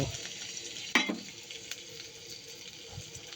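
Onion frying in a pan for a Bengali papaya and mung dal dish: a soft, steady sizzle with light stirring and one sharp clink near the start. The sound is close and fairly quiet.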